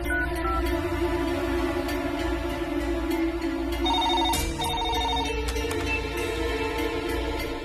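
A telephone rings insistently on an outgoing call in a Tamil TV serial, a loud, steady electronic ring pattern that fills the scene without speech.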